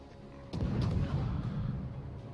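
A loud booming salvo from warship guns in World of Warships, several heavy close-range cannon blasts landing together and then rolling into a long, low rumble that slowly decays.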